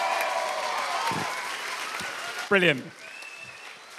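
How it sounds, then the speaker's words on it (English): An audience applauds at the 2014 Hertford Children's Book Festival gala evening. The applause is steady and sustained, a voice speaks briefly over it, and it tapers off toward the end. "A huge round of applause for all the representatives of Hertford Children's Book Festival."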